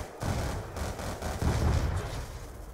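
Gunfire from a gun in a zombies video game, a quick run of dull, muffled shots and booms that crowd together in rapid bursts, fairly loud and with no voices over it.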